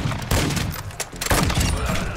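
Sniper rifle fire in a video game: a few loud, sharp booming shots spaced apart, over a busy, constant game background.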